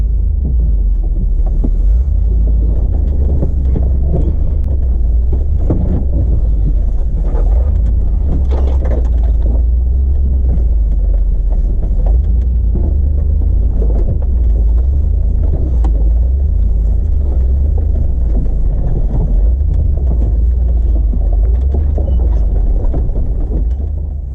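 A Dodge Durango 4x4 on stock wheels drives slowly along a rough ATV trail, its engine a loud, steady low rumble close by for the whole stretch, with no talking.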